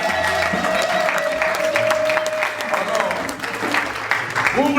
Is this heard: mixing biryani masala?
no